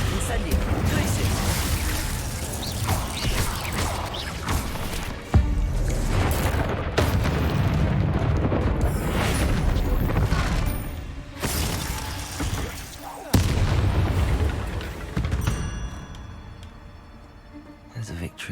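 Spell effects and explosions from the video game Hogwarts Legacy: continuous loud booms, shattering bursts and magical whooshes stacked densely for the whole stretch. A voice shouts spell incantations over the action.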